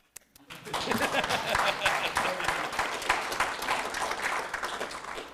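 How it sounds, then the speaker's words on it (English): Applause from the audience at a city council meeting as it adjourns, dense steady clapping that swells quickly after a brief pause and holds at a fairly loud level throughout. "you can clap now"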